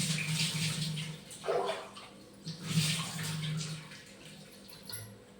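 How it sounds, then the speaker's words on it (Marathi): Running water from a tap splashes over hands being washed in a kitchen after mixing a spicy salad, a close, fairly soft gush with a few louder surges. "हात धुवून टाकलं मग बरं"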